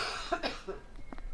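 A single person coughs a few times in a short, husky burst, close to the microphone, followed by faint throat noise with no speech.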